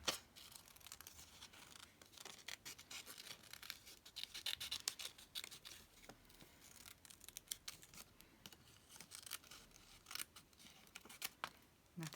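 Scissors snip and slice through paper while cutting out pieces for a boho journal collage, a steady run of close, soft crisp cuts and rustles with occasional sharper snips.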